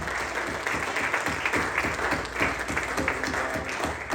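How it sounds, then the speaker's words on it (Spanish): Members of a church congregation applaud together in praise, a loud, continuous, even stretch of many hands clapping with a faint voice underneath. "ese aplauso para el Señor"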